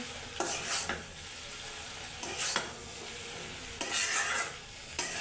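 Noodles with chopped coriander leaves are stirred in a pan, giving four distinct scraping, clattering strokes against a soft background sizzle, close up.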